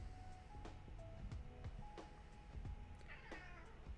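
An anxious pet cat gives a series of short meows spaced a second or so apart, with a longer drawn-out cry near the end, close over a quiet room background.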